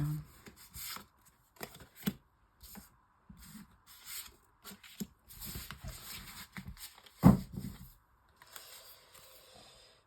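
Tarot cards shuffled and drawn for a six-card spread: quiet riffling and flicking in short bursts with gaps and a soft tap near the end, close by, with no talking.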